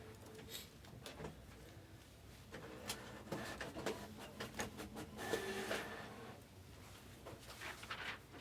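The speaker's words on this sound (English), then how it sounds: "But are we out of paper? This dang printer, I swear." A printer runs quietly in a room, with faint mechanical whirring and intermittent clicks and clunks.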